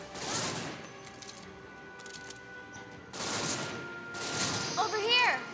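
Bursts of video game gunfire come in two clusters, the first brief and the second longer with rapid shots. A player talks over the shooting.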